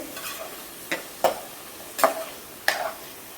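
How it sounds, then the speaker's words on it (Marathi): Lentils and ridge gourd sauté with oil and spices in a pressure cooker over a gas flame, a soft background sizzle punctuated by four crisp spoon knocks against the metal. "आता तेल मसाल्यासोबत डाळ आणि शिराळा थोडा परतून घेते मी"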